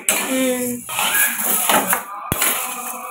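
A kadai (wok) pan handled in a home kitchen, with metallic scrapes, clanks and one sharp knock against other pots, close and fairly loud, with someone talking over the clatter.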